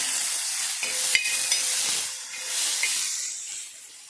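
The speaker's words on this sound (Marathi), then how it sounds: "आपण ते फ्राय करून घ्यायचे छानपैकी तेलामध्ये" Slices of tomato frying in hot oil for a quick chutney, a soft continuous hiss with faint crackles and a few brief tonal squeaks, close by and with no talk.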